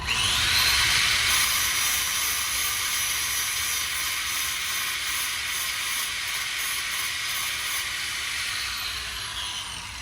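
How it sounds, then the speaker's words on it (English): A grinder or wire tool scrubs bare metal on a small ATV frame to clear a welding ground spot, giving a loud, steady high-pitched hiss and whine that runs continuously and fades slightly toward the end. "We have to scrub some of this metal off right here, guys."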